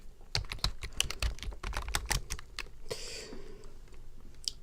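Rapid clicking of keys on a computer keyboard as a word is typed, a close, steady burst of crisp taps followed by a brief pause with a faint shuffle.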